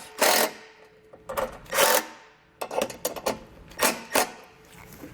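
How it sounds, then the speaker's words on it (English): Self-tapping screws driven into a base plate bracket on a 2020 Jeep during tow wiring kit install, several short bursts of a power driver whirring with pauses between, close and fairly loud. "Then I'm going to fasten this to the bracket here on our base plate. I'll use these self-tapping screws."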